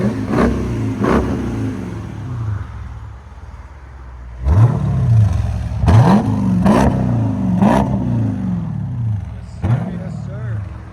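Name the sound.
HEMI V8 engine revving with aftermarket exhaust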